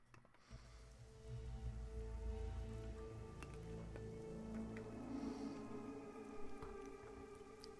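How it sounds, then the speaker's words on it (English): Steady rain falls in a game soundtrack, a continuous soft patter and hiss running under low musical tones, with scattered drip-like clicks throughout and no talking. "It's raining rain."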